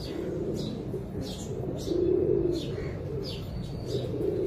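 Breeder pigeons coo in low, throaty murmurs against a busy background, with scattered chirps and rustling throughout.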